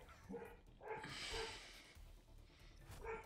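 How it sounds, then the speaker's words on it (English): A dog barks upstairs in a house, a few muffled, moderately distant woofs spaced through the moment, heard alone without talk. "I would love if my dog wasn't barking upstairs right now"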